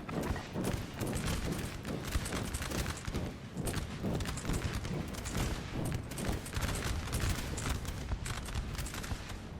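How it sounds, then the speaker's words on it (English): Massed artillery and musket fire in the Napoleon Total War battle game rumble as a dense, continuous barrage of overlapping booms and cracks, fairly distant and steady throughout, with little talk. "Let the artillery speak."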